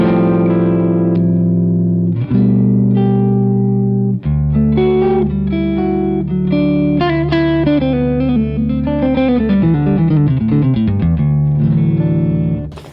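Clean electric guitar played through a SuperConductor boost pedal set to MOSFET boost mode, ringing chords followed by a run of single notes, sustained and close, with no talking.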